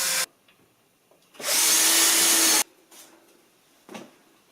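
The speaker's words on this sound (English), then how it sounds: "Now I'm going to put the 2 screws on the bottom." A power drill drives screws into a wall to mount an IKEA EKBY BJÄRNUM shelf bracket: one short burst, then a longer steady whine of about a second, followed by faint handling knocks, close and loud.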